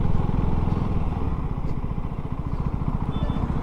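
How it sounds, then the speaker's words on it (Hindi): A KTM Duke 390 motorcycle rides in third gear at low speed, its engine giving a loud, steady, throbbing drone close by with a slight uneven pulse throughout. "20 के बाद ये देखिए अब थर्ड गियर में चेक करते हैं।"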